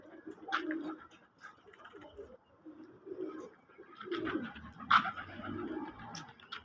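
Pigeons coo softly in low, repeated throaty calls, with faint bird chirps and bits of background noise nearby; the cooing stays gentle and fairly close throughout.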